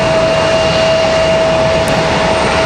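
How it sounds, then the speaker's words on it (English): A Southwest jet airliner spools up at the end of the runway at Raleigh-Durham International Airport, a loud, steady engine roar with a high whine running throughout, heard from a distance and without talk. "Got Southwest out there at the end of the runway, ready to hit it."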